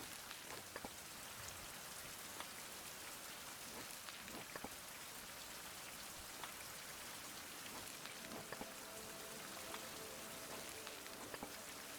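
Steady rain falls in a survival video game, a dense continuous patter of drops hitting surfaces at low volume, with scattered sharper drips and no voices.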